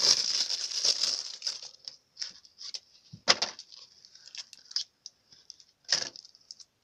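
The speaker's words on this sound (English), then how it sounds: "Comes with some plastic wrap over the little box the cards are in here." Plastic wrap on a 1993 Flair baseball card box crinkles and crackles up close in irregular bursts, dense at first, then sparse snaps and rustles with quiet gaps.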